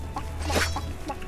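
Geese or ducks in the video game Lost Sea give short clucking honks, a few brief calls spread across a moment over a steady low game hum.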